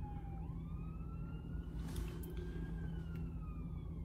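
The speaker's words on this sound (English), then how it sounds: "Oh, I've got another siren coming from somewhere." An emergency vehicle siren wails on a busy motorway, a rising and falling tone heard faintly at a distance over low, steady traffic rumble.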